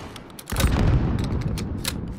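Rapid bursts of Call of Duty: Modern Warfare gunfire crackle close and loud, a dense fusillade of overlapping shots filling the short moment.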